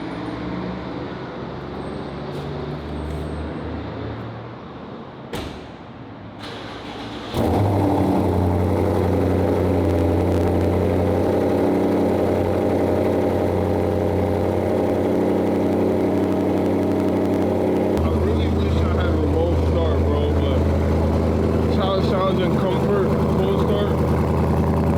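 A BMW M550i fitted with a titanium exhaust and no muffler cold starts, the engine catching with a sudden loud burst and settling into a steady, deep droning idle that continues close by.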